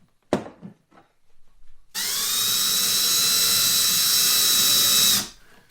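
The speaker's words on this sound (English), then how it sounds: "all I do is take the same drill bit and just give it a little bit of side pressure, just taking hairs of material off of there" A drill bit running steadily for about three seconds as it widens a hole in a model airplane canopy, a high whining drone, loud and close, preceded by a few brief clicks and handling noises.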